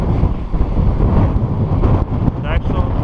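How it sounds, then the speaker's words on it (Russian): Strong wind buffets the microphone in a steady, loud roar with gusty low rumble throughout. "Ветер сильный, тяжело крутить."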